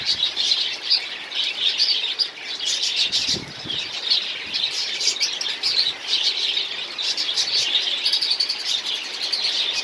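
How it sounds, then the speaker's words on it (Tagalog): Caged birds chirp and tweet continuously amid a steady wet hiss of heavy rain and wind, with a brief flurry of wing flaps partway through. "mga ibon natin nababasa na"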